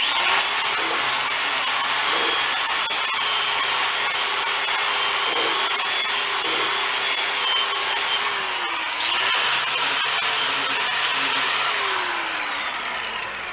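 A lawn mower blade sharpened in place without removal, with a steady, loud grinding rasp that runs almost continuously, briefly pausing and resuming partway through, close by and alone.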